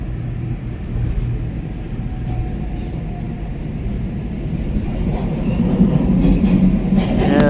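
A SEPTA Market-Frankford Line subway train running, heard from inside as a steady low rumble and roar that swells louder toward the end, with faint rail clatter.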